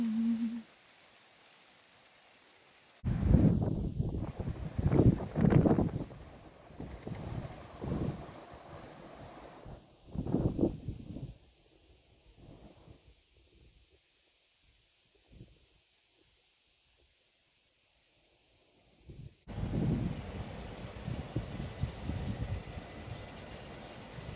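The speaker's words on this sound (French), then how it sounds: "Donc c'est le déluge." A heavy rain downpour comes in bursts of dense hiss and rushing noise, loud in stretches and dropping to near quiet between them, heard close to the microphone with no talking.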